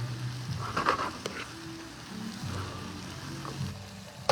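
Eggplant caponata sauce simmers and reduces in a pan, giving a steady soft sizzle and bubbling with a few brief stirring knocks, close and fairly quiet with no talking.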